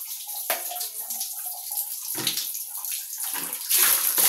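A tap runs hard at close range, its strong stream splashing and drumming into a basin as water is collected for storage, loud and continuous with small shifts in tone as the flow lands.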